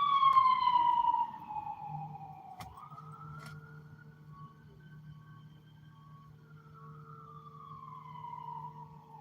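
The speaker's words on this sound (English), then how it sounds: "An ambulance running by" An ambulance siren wails through downtown Binghamton, loud at first and then sweeping down in pitch as it passes and fades, with low traffic rumble beneath it.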